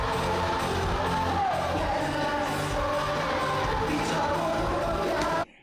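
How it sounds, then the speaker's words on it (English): Concert crowd at a show singing along to a song's hook, recorded on a fan's camera. A loud, steady mass of voices with some shouts and whoops, then a sudden cutoff at the very end. "the crowd is singing along very cleanly to the hook there"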